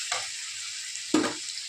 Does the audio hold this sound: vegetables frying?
yes